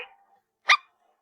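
A puppy gives one sharp, close bark after a brief faint whine, then goes quiet.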